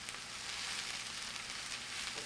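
Kale sautéing in a pan, giving a steady, even sizzle with broadband crackle that holds throughout at moderate loudness, with no voices over it.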